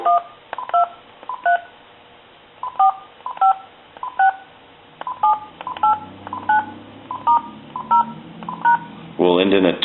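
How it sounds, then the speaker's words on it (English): A Uniden DECT 6.0 cordless phone on speakerphone dials a number as a quick series of short, loud DTMF tones in evenly spaced beeps, and a voice starts talking at the very end. "And we'll dial our numbers."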